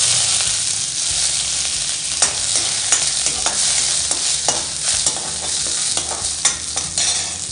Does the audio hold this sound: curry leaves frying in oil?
yes